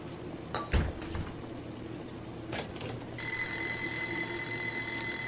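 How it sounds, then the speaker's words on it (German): A bright electronic alarm clock in the video game Joe's Diner on PS4 starts ringing partway through and keeps going steadily, with a few short clinks and clicks before it. "das ist ja gar nicht das Telefon, sondern das ist der Wecker"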